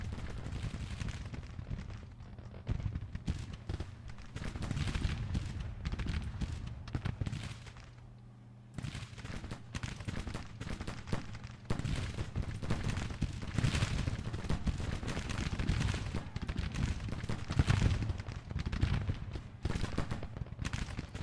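Rifle fire from massed Civil War infantry at a river ford in the strategy game Grand Tactician: The Civil War, a dense, continuous rattle of crackling shots under a low battle rumble, with a short lull partway through.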